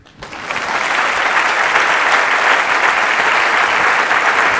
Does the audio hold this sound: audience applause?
yes